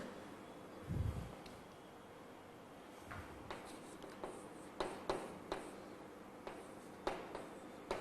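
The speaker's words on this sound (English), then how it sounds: "Let us write this." Chalk or marker tapping and scratching on a classroom board during a geometry lesson, a sparse run of short, light strokes and taps spread across several seconds, faint and close, with no talking.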